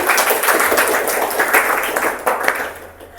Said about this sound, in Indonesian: Iya, macam mengganggu sekali tepuk tangan.